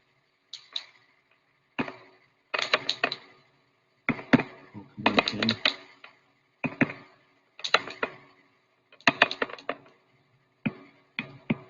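Computer keyboard typing during a maths class session: short bursts of quick clicking keystrokes, close and fairly quiet, separated by brief pauses, with no talking.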